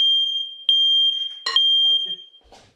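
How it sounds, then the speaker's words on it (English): A kitchen smoke alarm, set off by oven steam while baking cat head biscuits, shrills in a loud, steady high beep that cuts out and resumes, with a voice briefly talking over it. "Anytime I open the oven and some kind of steam comes out, smoke alarm goes off."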